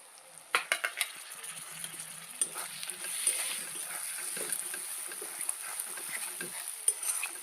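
Tomato added to frying masala in a pan for magur fish curry, with quiet sizzling under scattered metallic scrapes and taps of a spoon stirring against the pan.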